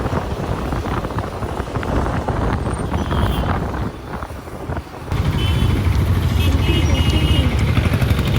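Busy road traffic during a motorbike ride on a Diwali Sunday, a steady broadband rumble of engines and wind buffeting, louder in the second half, with a voice talking over it.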